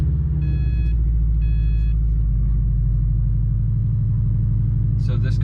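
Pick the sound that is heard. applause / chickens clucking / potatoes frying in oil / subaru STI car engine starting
subaru STI car engine starting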